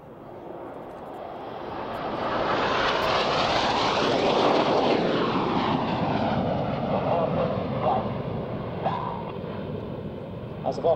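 Red Arrows jets flying a display manoeuvre at Waddington, a loud roaring engine sweep that builds to a peak overhead and then slowly fades as the aircraft pass.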